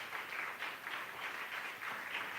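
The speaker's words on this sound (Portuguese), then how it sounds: "aplauda bem forte ao nome do Senhor Jesus." A church congregation at a Sunday service claps in a strong, rhythmic beat, pulsing in regular waves, distant and somewhat faint throughout.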